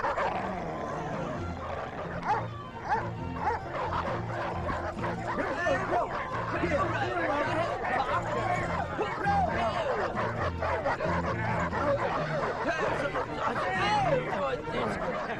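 A dog barks and yips repeatedly in an animated Titanic film, its sharp calls scattered through busy overlapping chatter and voices.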